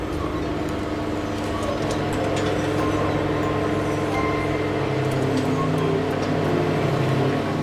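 Continuous rumble and clatter of a moving train in the game Ars Fabulae, a dense steady mechanical noise with faint higher rattles running throughout at an even level.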